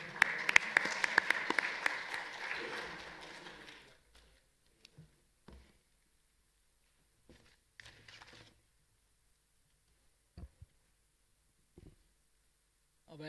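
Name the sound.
audience applause welcoming speaker on stage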